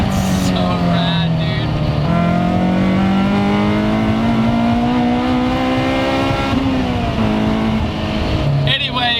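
A Toyota Starlet, rear-wheel drive with a Honda S2000 F-Series engine swap, revs steadily and loudly, its engine note slowly climbing in pitch with a dip before the end, close up and sustained throughout.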